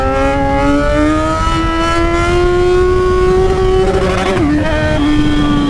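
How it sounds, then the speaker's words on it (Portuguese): A Yamaha XJ6 motorcycle engine with a sticking throttle revs loud and close, a steady droning note climbing slowly in pitch, then dipping briefly before holding high again. "o acelerador tá enroscando, parece, rapaziada"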